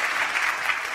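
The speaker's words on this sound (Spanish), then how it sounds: "Denle ese aplauso al Rey bendito." Church congregation clapping for the blessed King during a Spanish-language worship service, a dense, steady burst of applause from many hands, brief and moderately loud.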